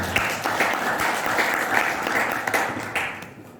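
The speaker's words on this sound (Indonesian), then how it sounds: "Dan tepuk tangan juga buat panitianya" An indoor audience at a talk in Bali claps steadily for the moderator and organizers, a dense, moderately loud patter of applause that fades toward the end.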